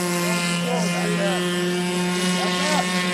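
Engines of an R/C airboat run at high revs, a loud, close buzzing whine that rises and falls in pitch as the craft throttles, with wind noise over the microphone.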